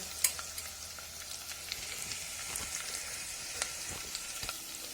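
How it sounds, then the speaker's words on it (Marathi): Green chilies and chopped garlic greens fry in a pan, giving a steady, close, crackling sizzle with scattered pops and occasional stirring scrapes and no voices. "तर मी हिरवी मिरची पण टाकली मस्त असं परतून घ्यायचं"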